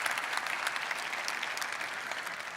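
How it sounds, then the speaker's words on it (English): Conference audience applauds the organizers, a steady dense clatter of many hands clapping throughout, moderately loud and without talk. "Can we get a round of applause for the organizers for putting this together?"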